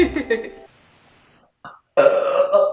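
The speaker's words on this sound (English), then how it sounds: "why'd you burp like that for?" A short burp follows a moment of near silence, then a person starts talking right after it.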